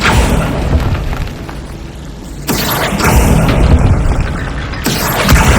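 Spell blasts in the Hogwarts Legacy video game hit as loud, booming bursts, one after another, each with a heavy rumbling tail and no voices over them.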